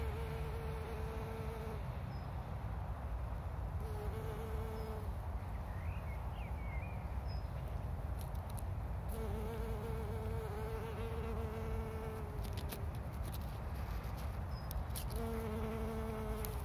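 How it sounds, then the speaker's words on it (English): A bee feeding on flower nectar gives off a continuous close buzzing drone, steady throughout, with faint outdoor tones rising and falling in the background. "What's the beautiful bee eating the nectar of this flower?"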